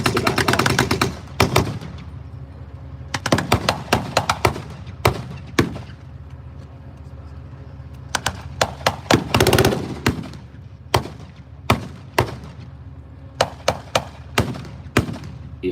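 Artillery and small-arms fire at a live WWII battle reenactment, with bursts of machine-gun fire and loud single blasts in irregular clusters, some near and sharp, others duller, over a low background rumble.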